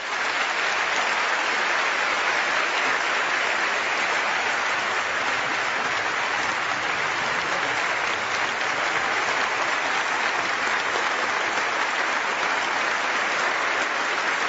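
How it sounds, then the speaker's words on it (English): Sustained audience applause at the Christopher Hitchens vs Tony Blair debate on God, a dense, steady clapping from a large crowd filling the hall, continuing evenly without voices for the whole stretch. "So please join me in a round of appreciation"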